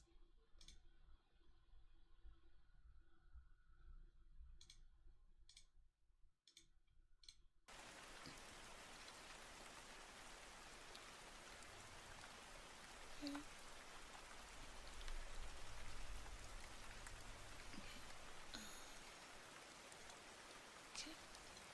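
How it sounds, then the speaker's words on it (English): Steady rain falls, a dense continuous hiss filling the background after a few soft clicks and taps at the start; no talking over it. "rain sound."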